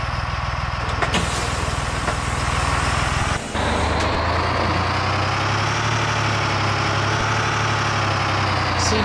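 A school bus engine idles steadily with a deep, continuous rumble, loud and close, with a brief hiss partway through, on a morning pickup route.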